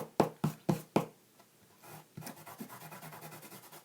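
Leftover adhesive being rubbed off a craft mat during card making: four sharp taps come first, then a soft, close, repeated rubbing scrape that continues to the end.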